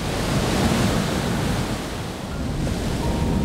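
Fierce ocean waves crash against the rocky shoreline of Monterey Bay on the California coast, a loud, continuous surf roar with wind buffeting throughout and no voices.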